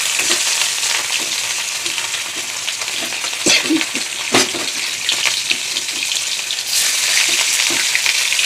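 Pieces of big katla fish rubbed with salt and turmeric fry in hot oil in a kadai, a loud, close, continuous sizzle with a few sharp pops and spatters.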